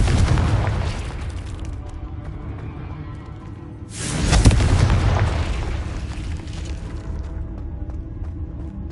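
A Confringo blasting spell explodes in the Hogwarts Legacy video game: a loud, deep boom bursts out about midway, swelling and then rumbling away over a steady background of game ambience and sound effects.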